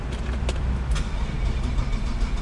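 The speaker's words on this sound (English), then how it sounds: "this is the engine startup of the Saab 900 SE" A 1996 Saab 900 SE convertible's V6 engine runs with a low, steady rumble close up, a couple of faint clicks on top, no talking.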